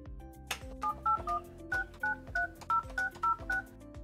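Keypad tones from a Yealink desk phone beep in a quick, even sequence of about a dozen short presses as a number is entered, clear and close over a faint background of music.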